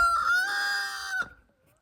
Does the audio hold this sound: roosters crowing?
yes